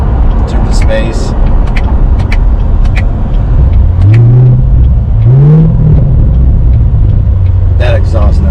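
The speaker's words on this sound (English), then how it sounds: "That exhaust note's amazing." A C7 Corvette exhaust note heard up close inside the car, rising in two revving swells over a constant low engine rumble, with someone talking across it.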